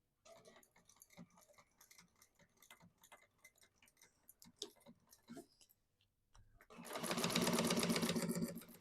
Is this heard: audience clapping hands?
no